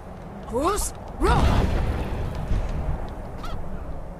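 Chickens in the video game Skyrim give a few sharp squawking calls, two quick bursts near the start and a fainter one later, over a low rumbling game background.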